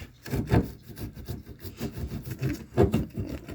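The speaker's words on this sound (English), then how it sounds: "Just keep sawing. Saw, saw, saw." Rough back-and-forth rasping of a hand saw cutting a hood scoop hole through a Mustang's hood, irregular strokes repeating, close and moderately loud.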